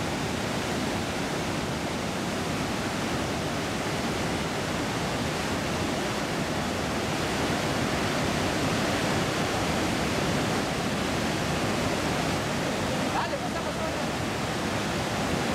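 Iguazu Falls in Iguazu National Park, a vast waterfall system nearly 3 km wide with drops of 60 to 82 meters, roars as a continuous, even wash of broad noise with no breaks or voices.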